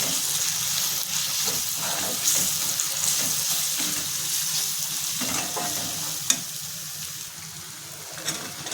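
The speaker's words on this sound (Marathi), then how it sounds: "धने जिरे पावडर आणि गोडा मसाला आता हे सर्व आपल्याला छान परतून घ्यायचे" Chili paste, coriander-cumin powder and goda masala sautéing in a pan for a wild kantoli vegetable dish, a steady close sizzle with faint stirring scrapes and one sharp clink, no voices.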